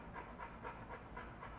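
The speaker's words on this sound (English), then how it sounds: "This is Braxton, and he is a dog." A dog pants in quick, steady breaths, close and fairly quiet, with no talking.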